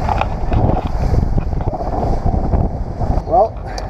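Steady rumbling wash of a 1997 Supra Vision ski boat moving over water, with wind buffeting the microphone throughout and a brief higher whine near the end.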